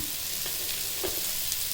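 Chopped vegetables for chicken fried rice crackle and sizzle steadily in a hot pan, a continuous hiss with faint popping.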